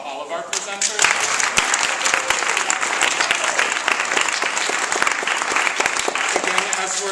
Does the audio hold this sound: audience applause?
yes